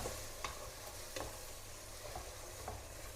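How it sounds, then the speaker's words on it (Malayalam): Ripe tomatoes sauté in a pan for a seafood masala, giving a soft, continuous sizzle. A few brief scrapes from a stirring spoon stand out at uneven intervals. No voices. "അത്യാവശ്യം നല്ല പഴുത്ത തക്കാളി നന്നായിട്ടൊന്ന് വഴറ്റി കൊടുക്കാം"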